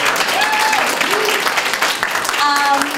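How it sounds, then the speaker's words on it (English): Audience applause after a musical theater group's performance: dense, steady clapping from a crowd fills the whole stretch, with voices talking over it. "Let's give them another round of applause."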